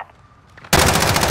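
Sustained automatic gunfire from an enemy sentry gun in a first-person shooter, bursting in loud and close after a quiet start and continuing as a dense, rapid rattle of shots.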